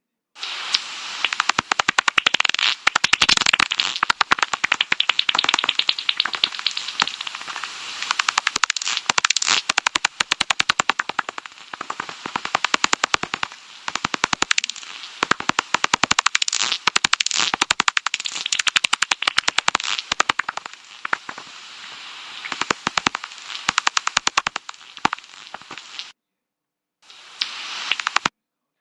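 Bat echolocation clicks: rapid, dense clicking and crackling pulses in long continuous bursts, sharp and high-pitched, with a brief pause near the end.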